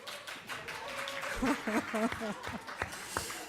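An audience at a health workshop breaks into scattered clapping and light laughter over a noisy room, with voices talking through it, moderately close.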